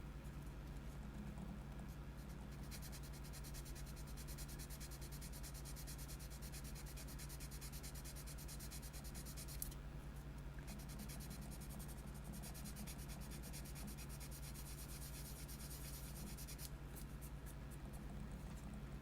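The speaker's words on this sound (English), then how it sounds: "we're gonna get some of the lower grit sandpaper if I can find it." Lower-grit sandpaper worked by hand over a surface, a steady continuous scratchy rubbing that runs unbroken and fairly close throughout, with no talking.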